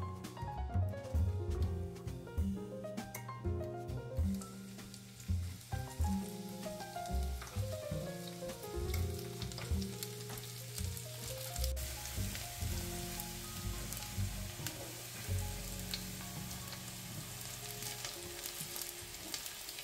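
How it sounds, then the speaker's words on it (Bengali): Chopped garlic and green chili fry in hot oil in a pan, a steady crackling sizzle with scattered pops and occasional stirring scrapes, continuous and close, with no talk. "রসুন কুচি এবং কাঁচামরিচ কুচি দিয়ে ভেজে নেব।"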